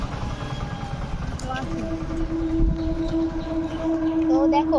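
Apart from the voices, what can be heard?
train passing by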